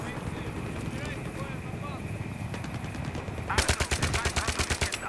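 Rapid bursts of automatic gunfire crack out in Battlefield 3, a fast rhythmic volley arriving after several seconds of windy background noise and distant shots.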